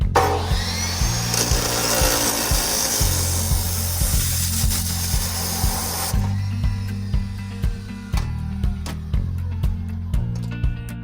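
A power saw blade cuts through a brass pressure relief valve taken from a water heater, giving a loud, steady grinding rasp at first and then a lower hum broken by a run of sharp metallic ticks.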